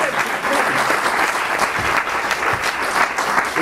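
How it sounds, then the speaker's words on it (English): An audience claps in a steady, dense round of applause throughout, close and loud with no talking over it. "I think that's worth a round of applause."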